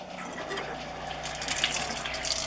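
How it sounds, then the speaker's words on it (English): Water runs steadily from a faucet in an Aliner camper trailer, a constant rushing splash with the low mechanical hum of the water pump beneath it. "I'm going to turn on my pump"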